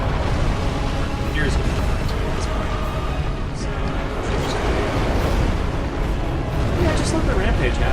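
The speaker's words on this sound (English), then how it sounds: "Here comes an explosion." A rumbling in-game explosion from Dark Souls 3, a dense, sustained roar of blasts and debris that fills the whole stretch at steady loudness, with no clear break.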